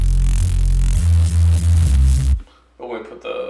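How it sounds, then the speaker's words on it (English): Dry synth Reese bass from Harmor with no water layer, a loud buzzing low drone stepping through a few notes before stopping abruptly, followed by someone speaking. "Yeah, and so without the water,"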